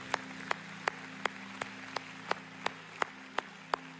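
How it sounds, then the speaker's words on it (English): A church congregation claps in a steady rhythm, roughly three sharp claps per second, over a low sustained musical hum. "Would you clap for the Lord if that helped you this morning?"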